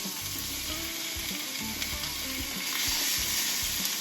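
Stuffed pork tenderloin sears in a hot pan, giving a steady close sizzle with crackling pops and no talk.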